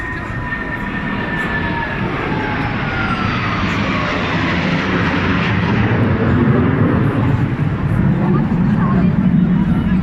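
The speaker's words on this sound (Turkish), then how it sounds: "Sürekli üstümüzden uçak geçiyor." A loud airplane roars overhead above the Champs-Élysées in Paris, a continuous rumbling drone whose pitch slowly drops as it passes.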